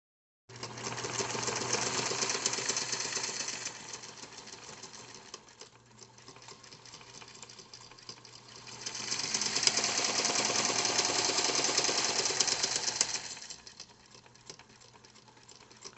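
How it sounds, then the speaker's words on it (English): A sewing machine top stitches around the edges of a beginner's crossbody purse, running in two long, steady bursts of rapid stitching separated by a quieter pause, close and alone with no talking. "I'm going to go around and top stitch around this whole piece"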